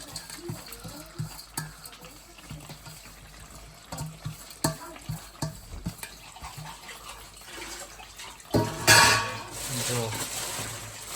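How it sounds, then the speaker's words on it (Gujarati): A spoon stirs cashews into a curry gravy in a pan, making soft rhythmic scraping and wet squelching up close, then a louder burst of sizzling toward the end. "કાજુ ગ્રેવીમાં નાખી દીધા છે થઈ ગયું છે કાજુ કરી તૈયાર"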